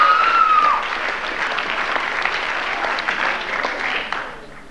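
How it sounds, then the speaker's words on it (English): Audience applause for a coach at a school fall sports awards ceremony, sustained dense clapping from a crowd that fades gradually toward the end, with a brief whistle at the start. "I'd like to have a round of applause for him."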